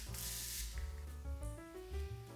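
A fine mist of moisturizing body spray hisses out in a steady broadband burst near the start, followed by softer rustling while background music plays throughout.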